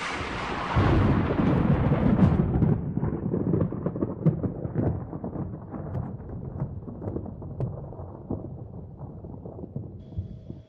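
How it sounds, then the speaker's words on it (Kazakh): Thunder rolls in with a loud, sudden crack, then a long, deep rumble that slowly fades over about ten seconds. No voices are heard. "найзағайдың даусы екен."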